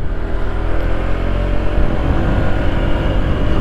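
A 2021 Honda PCX125 scooter with a 125 cc engine accelerating, a loud close buzzing drone whose pitch climbs steadily, with no voices.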